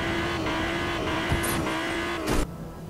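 A car boosting through the air in Fortnite, its engine holding a steady sustained drone with a few brief bursts, ending in a louder whoosh before it drops away.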